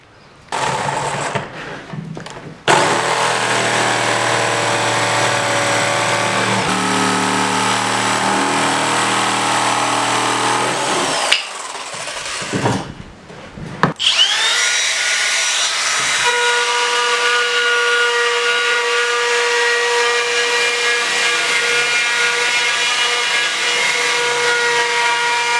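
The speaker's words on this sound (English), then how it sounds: "Now I've just got to chuck a drill hole in both of them, and then router it out." A power drill and router cut holes into wood while a 4ft wooden kicker ramp is built. The tool whines loudly and steadily, breaks off briefly partway through, then restarts and runs on alone.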